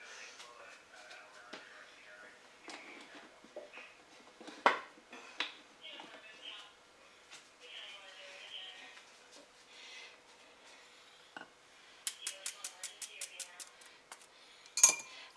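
Metal utensils clink and rattle against each other and dishes as someone rummages through a kitchen drawer for a big spoon, with scattered sharp clanks and a quick run of jangling taps near the end.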